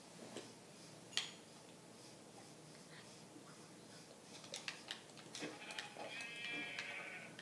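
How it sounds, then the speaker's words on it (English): Several faint bleats from a sheep in a video game over a steady low background hum, with scattered small clicks and game-like tones toward the end. "Oh, there's another sheep right here."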